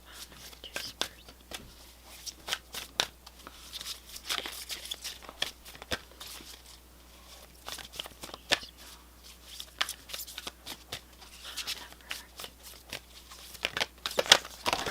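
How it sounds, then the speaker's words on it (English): Tarot cards being shuffled by hand during a pick-a-card reading, a steady run of soft riffling and sliding card clicks with quiet whisper-like rustle, close and continuous, with a few sharper snaps near the end. "this is why I don't shuffle on camera very often"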